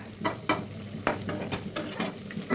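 Chicken cooking in a pan with soy sauce, giving a steady sizzle with several sharp stirring and scraping hits from a utensil against the pan, close and fairly loud.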